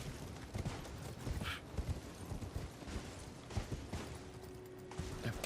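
Horse hooves in Elden Ring, a quiet rhythmic clip-clop of galloping steps over several seconds, with scattered game effects around them.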